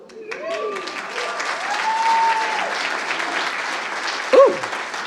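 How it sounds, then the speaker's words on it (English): Applause from a keynote audience at the NERFA 2025 folk conference rises into a steady wash of clapping, with voices over it and a short sharp exclamation near the end. "Number 5 got its own applause, yes."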